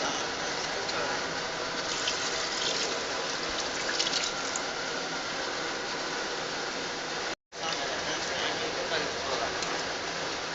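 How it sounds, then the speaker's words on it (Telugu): Water poured into a pan of chicken curry, a steady close rushing splash that continues almost without pause, with one very short break near the end. "వాటర్ కూడా పోస్తాం చూడండి."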